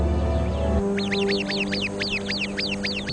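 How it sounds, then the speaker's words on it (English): A sentry bird in a flock sounds an alarm at a viper with a rapid series of sharp, repeated chirping calls. The calls burst out after a brief low rumble and continue steadily, fairly close and clear. "The sentry bird immediately sounds the alarm."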